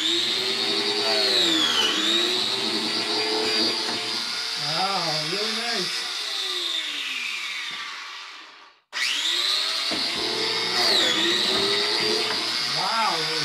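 A saw cuts with a diamond-belt-sharpened carbide tooth blade, a loud high whine that dips under load, drops briefly to near silence and spins back up to a steady scream.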